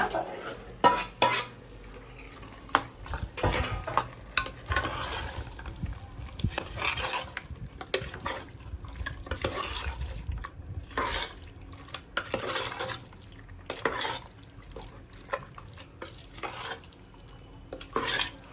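Marinated chicken for biryani sizzles in a pan while a metal spoon scrapes and clanks against it in irregular stirring strokes, close and busy, with no talk.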